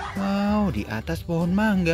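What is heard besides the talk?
chickens and chicks foraging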